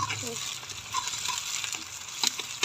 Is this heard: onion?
yes